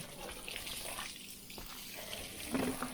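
Water runs from a garden hose into an Eonon pressure washer, a steady broadband rush with a louder surge near the end.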